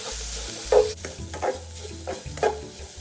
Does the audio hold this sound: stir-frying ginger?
yes